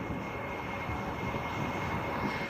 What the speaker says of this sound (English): Look at that incredible plane.